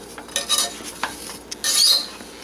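A spoon stirs ginger and sugar in a pan for candied ginger, with a few close metallic scrapes and clinks and a faint sizzle between them, no voices.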